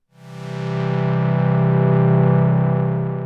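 A Behringer Model D analog synthesizer holds one loud, steady low note, roughened by overdrive from the overload control, swelling in quickly and sustaining without any talk.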